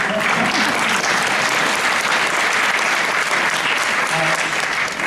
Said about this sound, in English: If you're allowed to clap, you can clap.